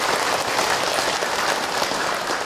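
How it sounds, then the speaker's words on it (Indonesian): A dense wash of clapping from a crowd at a religious talk, steady and continuous throughout, with no voices standing out. "Tepuk tangan buat bunda yang bertanya."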